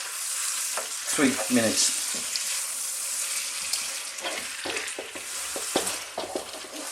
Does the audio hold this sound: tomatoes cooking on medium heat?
yes